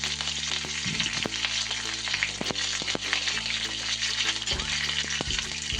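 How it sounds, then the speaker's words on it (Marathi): Curry leaves hit hot oil in a pan for a Marathi bottle gourd and chana dal dish, giving a loud, dense, continuous frying sizzle with sharp crackles and spatters throughout, close up and with no speech. "कढीपत्त्याची पानं टाकते"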